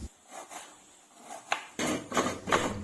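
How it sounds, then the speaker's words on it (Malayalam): Fresh coconut being grated in a home kitchen for a winged bean thoran: uneven rasping scrapes come in short bursts, with a few sharp metallic clinks against a bowl, close and fairly quiet, no talking. "കുറച്ച് ആവശ്യത്തിനുള്ള തേങ്ങ ചിരകിയെടുക്കണം."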